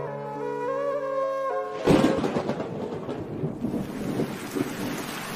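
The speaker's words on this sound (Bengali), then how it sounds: "যা, বাড়িতে যাবার আগেই তো বৃষ্টি নামলো।" A sudden loud thunderclap breaks over the countryside beside a river, followed by steady, heavy rain drumming nearby, after a brief stretch of sustained musical tones.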